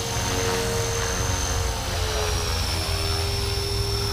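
A Blade 330S radio-controlled helicopter's rotor buzzes loudly and continuously with a high, steady whine on top.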